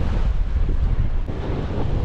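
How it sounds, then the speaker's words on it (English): Strong wind buffets the microphone in a steady low roar on a boat at sea off Perth, with water and waves churning underneath throughout. "It is very windy."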